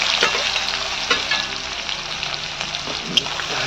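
Sliced onion crackles and hisses in hot oil in a pan for chicken curry, a steady close sizzle with a few faint stirring scrapes.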